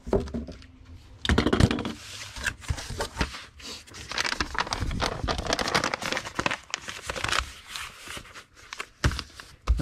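Thick, stout cardboard from a bike box is cut by hand up close, giving scraping, crunching strokes in an uneven rhythm with brief pauses. Crinkling and handling noises come through, and no one talks.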